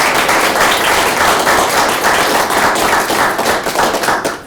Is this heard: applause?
yes